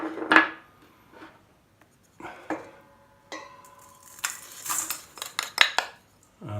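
Butter and sugar are creamed in a bowl for a Christmas cake. A utensil clatters and scrapes against the bowl in irregular bursts, with short quiet gaps between them.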